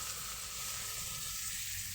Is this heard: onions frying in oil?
yes